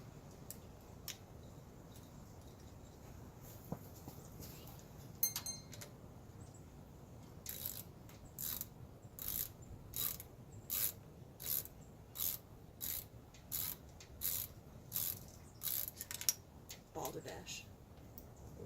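A ratchet wrench tightening a spark plug during a spark plug, wire and coil pack job clicks in a steady series of sharp ratchet strokes, fairly close, after a quieter stretch of faint fumbling.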